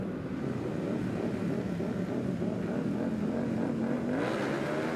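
Racing motorcycles at a Twins Cup race start at Michelin Raceway Road Atlanta, a dense, continuous engine drone with a rising whine as revs climb, heard from a distance without voices.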